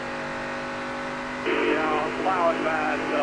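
An ARCA stock car circling Charlotte's oval, its engine a steady in-car drone that swells into a rougher, louder note halfway through, with radio-like voice chatter mixed in.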